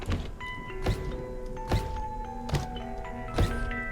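A crank is wound in a Halloween horror video game, with a heavy clunk roughly every second under a slow, tinkling, music-box-like melody.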